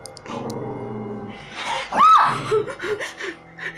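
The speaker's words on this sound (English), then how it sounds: "The dog is barking at the window in the beginning of the clip" A dog barks near a window indoors, several sharp barks early on followed by yips and gasping, excited sounds, fairly close and loud.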